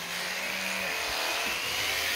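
Electric clippers trim the hair on a bull's head, giving a steady, close buzzing drone that holds even throughout with a few low thumps beneath it.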